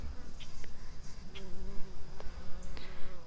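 A bumblebee buzzes steadily and close by in a vegetable garden, a continuous droning hum with small shifts in pitch and a few faint clicks.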